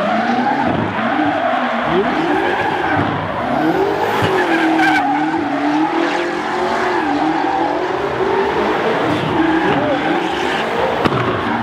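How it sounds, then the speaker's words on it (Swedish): A BMW 8 Series drifting at a motor show event, its tires squealing in long wavering tones over a steady engine roar, with crowd noise and talk throughout. "Andreas med Mange i den här BMW 8-serien."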